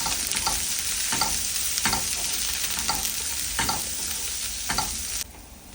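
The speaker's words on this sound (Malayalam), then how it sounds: "സവാള നല്ല സോഫ്റ്റ് ആവുന്നവരെ നമ്മൾ ഒന്ന് സോട്ട് ചെയ്യും" Chopped onions sauté in a pan over a medium flame with a constant sizzle, broken by periodic scraping strokes from a stirring spoon. The sizzle fades slightly at the very end.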